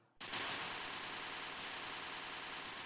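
A P90 submachine gun fires in a video game, a loud, continuous rapid-fire burst that starts abruptly and holds for over two seconds, very close and dense.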